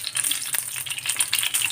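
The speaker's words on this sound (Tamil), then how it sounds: "கொஞ்சம் தெரிக்கும் பச்சை மிளகாய்" Whole green chillies spluttering and crackling in hot oil, a dense continuous sizzle with sharp pops throughout, close and fairly loud with no voices.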